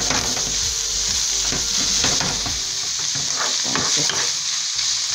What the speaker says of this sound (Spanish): Ustedes escuchan cómo se está friendo,